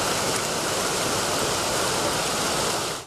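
Floodwater rushing through Şairler Creek in Çayeli, Rize, during heavy rain, a dense, steady roar of churning water, loud and continuous with no other sounds.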